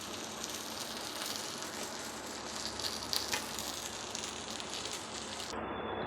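Fish fry sizzling steadily in a hot pan for a Nellore-style fish dish, one side browning fast: a constant dense crackle and hiss at close range with a few louder pops and no voices.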